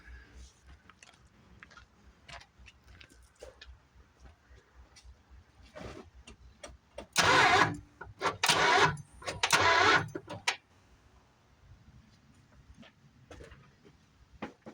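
A neglected 1973 Plymouth Fury III with a loose power steering belt cranks in three loud bursts of starter whir, each a second or so long, amid scattered clicks and faint background knocking.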